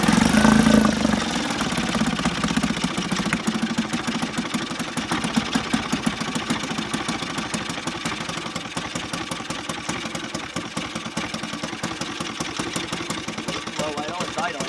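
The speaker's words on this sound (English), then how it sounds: "Low idle, it's idling." A 1968 Sears Clinton 3.5hp outboard motor idles low with its prop submerged, a steady, rough, rapid putter that runs close and unbroken, with occasional uneven beats.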